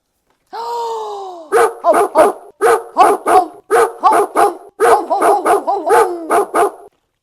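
After a short whine, a dog barks close and loud in quick repeated bursts, about fifteen sharp barks grouped in twos and threes.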